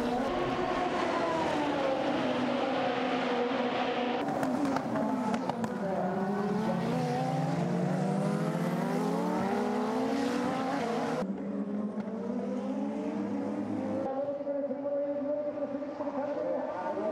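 Super Formula race cars from the 2015 Round 3 race roar around the circuit, engines loud and continuous with rising and falling pitches as cars pass and battle; a commentator narrates over the din.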